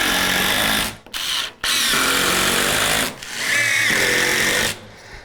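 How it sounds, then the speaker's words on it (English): A power drill drives screws into wood framing for a living room arch, with loud whirring bursts that stop briefly between screws and a rising pitch on the last one, and no talk. "We are screwing wood together."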